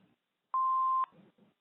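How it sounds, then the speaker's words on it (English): A single answering machine beep, a steady electronic tone held for about half a second, loud and clear, then a faint voice starts. "Leave your name and phone number after the beep."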